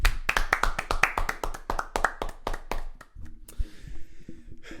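Studio crew clapping for the engineer: a short burst of quick, close, sharp hand claps from a few people that thins into scattered taps and then stops, leaving faint room noise.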